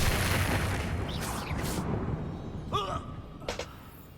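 Spell explosions in the video game Hogwarts Legacy, a loud sustained blast and rumble that fades, followed by sharper magical whooshes and pops, with faint voices underneath.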